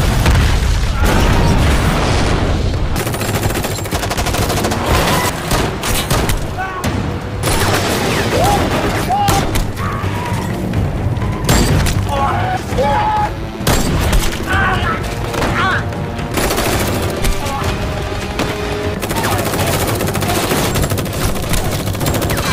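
A film scene fills with dense, rapid bursts of gunfire and booming shots, sustained and loud throughout, with voices and other action sounds mixed in.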